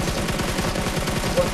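Rapid gunfire crackles in a PUBG Mobile match, a steady automatic burst of evenly spaced shots repeating throughout, moderately loud with no talk over it.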